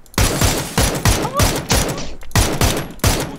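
Video game gunfire, loud rapid bursts of shots in quick repeated volleys, close and dominating, with a brief break in the middle.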